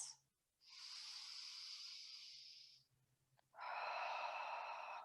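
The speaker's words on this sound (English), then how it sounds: "Ujjayi breath. Bring that victorious breath in." Ujjayi breathing during a yoga class: two long, close, hissing breaths, a slow inhale and then an exhale, separated by brief pauses.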